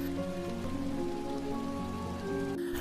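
Heavy rain pours down steadily in a dense, even wash of drops, with a low tonal hum running underneath and no speech.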